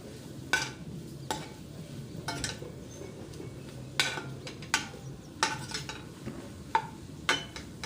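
Boiled potato masala filling for karanji cooks in a pan over a low flame. A spatula scrapes and clinks against the pan every second or so, over a faint sizzle, with no talking.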